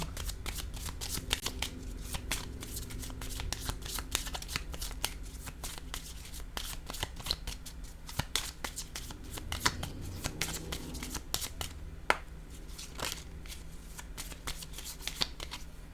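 A deck of cards is shuffled repeatedly up close, crisp riffling and flicking bursts recurring throughout with a soft background hum and no talking.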